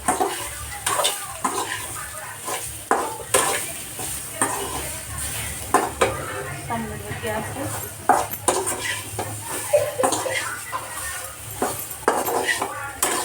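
Spices (turmeric, salt, chili, garam masala) and soy sauce being stir-fried in a pan: close, repeated scraping and clinking of a utensil against metal over a light sizzle, with frequent sharp knocks throughout.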